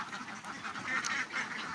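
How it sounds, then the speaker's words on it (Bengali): A crowd of ducks at a duck farm quacks and honks together in a continuous noisy chorus, fairly near, in the early morning. "দেখেন হাঁসগুলো সব সুন্দরভাবে ছাড়লাম"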